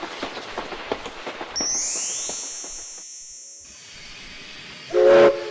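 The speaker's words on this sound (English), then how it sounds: "When the color train whistle starts to blow" A toy-like color train from a children's program sounds a single long, high steam whistle that holds steady for about two seconds and then cuts off, preceded by light rhythmic clatter and followed by a brief hiss.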